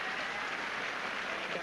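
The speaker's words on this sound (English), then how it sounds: "Something for the Argentinian support group to cheer." Crowd at a tennis match applauding and cheering after a break of serve, a steady wash of clapping heard from a distance without pause.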